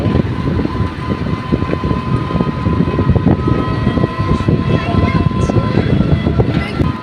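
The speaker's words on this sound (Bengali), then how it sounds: "ওই যে ট্রেনটা দেখতে পাচ্ছি, মাল ট্রেন ছিল।" A heavy goods train rumbles steadily past close by, a loud continuous roar of wheels and wagons with no pause.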